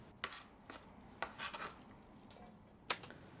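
A knife cutting a cabbage stem into smaller pieces on a board gives a few sharp, quiet taps and scraping strokes spaced irregularly, close by in a quiet kitchen.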